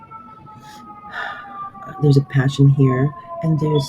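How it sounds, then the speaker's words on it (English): A wailing emergency vehicle siren tone runs steadily in the background while a person talks over it, sounding moderately distant, like city traffic sirens. "sorry about the sirens."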